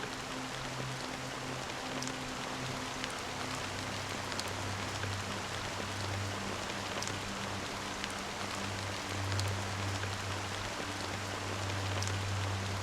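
Steady rain falls in the video game Honkai: Star Rail, an even, dense hiss of drops that does not let up, over a soft low droning hum.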